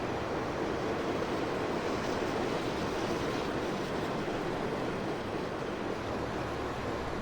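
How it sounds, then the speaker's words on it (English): Diesel train in the video game Farming Simulator 15, heard as a continuous, loud, broadband rumble and roar that holds steady without pauses and with no speech over it. "Oh, it's a diesel train."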